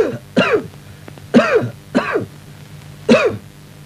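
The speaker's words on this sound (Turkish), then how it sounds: "Öksür." Four harsh coughs spaced about a second apart, close and fairly loud, with no talking around them.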